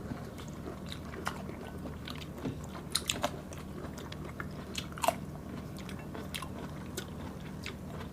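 Close, steady chewing of fermented rice-and-fish buro with fried pompano, giving soft crunches and wet squishes at a quiet level, with a few sharper bites standing out and no talking.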